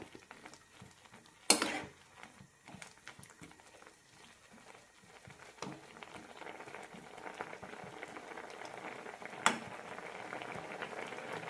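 Drumstick curry with tamarind comes to a boil in a pot, giving a steady low bubbling that builds toward the end, broken by a few sharp clanks of a utensil against the pot.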